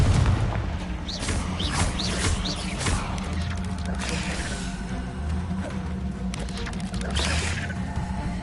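Confringo fire spells explode in Hogwarts Legacy, a string of heavy booms and crashing blasts with sharp cracks, clustered early and again toward the end over a rumbling bed.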